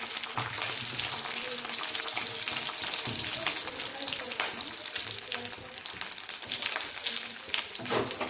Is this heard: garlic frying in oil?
yes